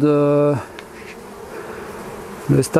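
Honey bees buzz loudly and close at a hive, in a sharp harmonic drone lasting about half a second, then fading to quieter background hum before another brief burst of buzzing at the end.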